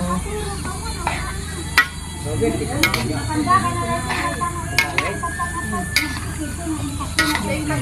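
A sautéed vegetable mix is stirred in a pan while cooking outdoors in the sun. Close scraping strokes and sharp taps sound over a steady sizzle throughout, with a voice speaking in the background.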